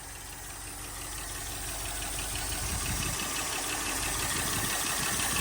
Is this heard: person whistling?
no